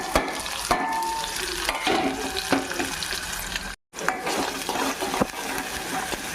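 Chopped onion pieces and shahjeera (caraway seeds) frying in hot oil give a loud, steady sizzle with intermittent stirring clatter, broken by one brief silent gap.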